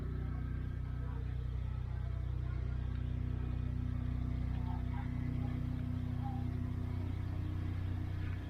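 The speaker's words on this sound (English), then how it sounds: "I got the generator going" A portable generator runs outdoors with a steady low droning hum, continuous and fairly faint throughout.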